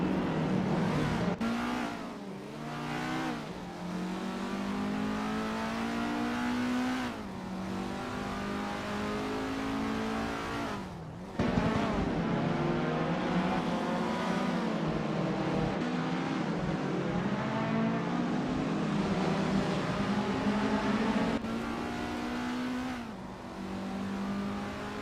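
Race cars roar through a racing video game, engines droning and revving continuously with rising and falling pitch as gears shift, a dense layered motor sound with occasional swells and brief dips, loud and steady throughout.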